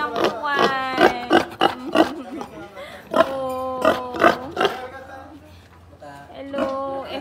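A farm pig of F1 crossbreed, a replacement breeding sow, gives repeated close grunts and oinks in a steady run of bursts, with a person speaking briefly over them.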